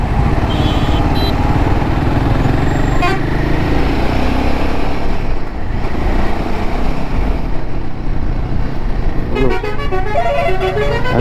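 Dense Indian highway traffic heard from a motorcycle on the Pune to Vadodara route near Bharuch, with trucks, loud engine and wind roar throughout and repeated horn toots cutting in, busiest toward the end.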